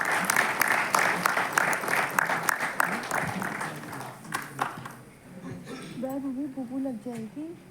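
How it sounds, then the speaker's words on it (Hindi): Audience applause welcoming a guest at a Delhi program, brisk clapping for several seconds that fades out, followed by a person speaking. "एक बार आप सभी से अनुरोध है कि जोरदार तालियों के साथ हम स्वागत करें पद्मश्री निवेदिता भिड़े जी का।"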